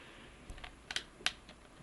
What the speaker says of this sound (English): One more shuffle, just because I really want to